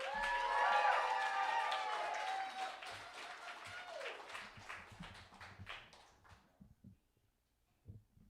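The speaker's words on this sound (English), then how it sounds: "Let's keep those applause going for Eli Allen Gertner." An audience at a poetry slam applauds a poet, with dense clapping and cheers at first that thin out into scattered claps and then fade to near silence, a few last claps at the end.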